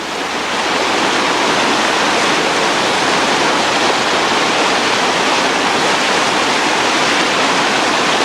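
Loud, continuous roar of heavy whitewater on a river rapid, a dense rushing wash close by with no pauses or voices.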